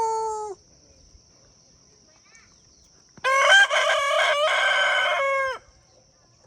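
A rooster crows close by near a temple on a hillside hike at Kirtipur, one short call at the start then a long, loud, wavering crow after a quiet pause, over a steady high background whine.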